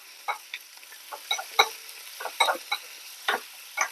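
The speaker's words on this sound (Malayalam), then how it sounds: "ഇനി നമുക്ക് എല്ലാം കൂടി ഒന്ന് മിക്സ് ചെയ്യാം" Kosambari, a raw green gram split salad, being mixed in a bowl: a series of short, distinct scraping and clinking strokes from a spoon, irregularly spaced, close and moderately loud, with no talking.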